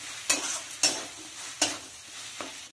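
A spoon stirs spices in a hot cooking pan while potato and leafy greens are prepared, four distinct scraping strokes over a steady close sizzle and frying crackle.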